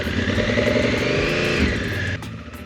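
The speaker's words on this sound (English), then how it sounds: "my bike runs a little rough this high" An adventure motorcycle engine, an Africa Twin, idles and runs rough at over 3,800 meters near Lake Titicaca in Bolivia. It makes a loud, close, steady throb with a slightly uneven, lumpy beat that drops in pitch near the end.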